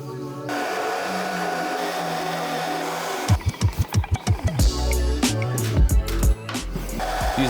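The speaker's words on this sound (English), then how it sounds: "Use a hairdryer" A hair dryer heats vinyl wrap on a Yamaha HS8 studio monitor speaker, giving a steady whirring blow for a few seconds. A run of rhythmic thumps and clatter from handling the speaker and vinyl follows.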